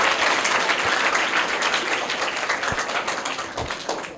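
Children in a classroom quiz clap loudly for a classmate who gave the correct answer, a steady, dense burst of applause lasting several seconds with a few sharper claps standing out, close and continuous.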